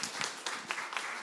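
Applause from the audience at an Indonesia Pavilion session on bamboo, a short burst of many hands clapping at moderate, fairly faint level, dense and steady.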